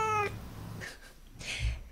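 A cat meows once at the start, a clear, bright call, followed by a couple of fainter vocal bursts and a low thump, used as a talking-cat meme sound with no speech.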